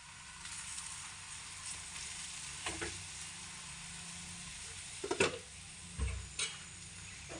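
A sweet cashew-and-almond paratha fries on a very hot tawa over a lowered gas flame, giving a faint, steady sizzle with a few soft clicks and scrapes.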